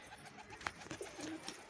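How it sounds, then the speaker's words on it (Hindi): Homing pigeons, including a new black pigeon, give soft, faint coos outdoors amid light background noise, with a few brief calls scattered across the moment. "नए काला कबूतर नया परिंदा है तो ये भी उड़ रहा है।"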